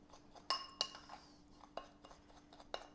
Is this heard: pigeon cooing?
no